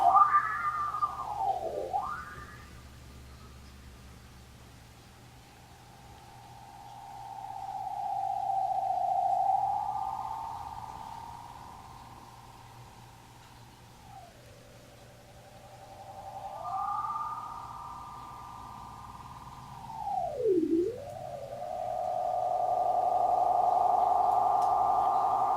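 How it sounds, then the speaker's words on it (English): Warbling, swooping tones from a King Dubby clone analog delay pedal pushed to heavy repeats, pitch sliding down and back up over a steady murmur, with no voices. "And then we can do all the analog delay stuff."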